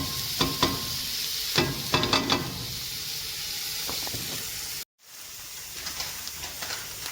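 Ginger, green chillies and chopped onions sauté in a pan, a steady close hiss broken by spatula scrapes and taps, with a brief gap of silence midway before the frying resumes.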